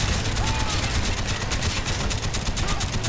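Rapid automatic gunfire from Call of Duty: Black Ops, sustained dense bursts with loud continuous crackle filling the whole stretch, game combat sound without clear speech.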